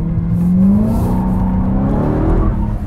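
A race car's engine pulls hard out of a corner on a track, its pitch climbing steadily and loudly as the throttle is fed in, a strong close drone with no voices.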